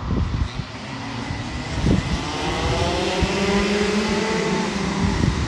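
Go-karts racing past on a karting track, a steady loud buzz of small engines droning close by, swelling slightly as they pass, with no talk.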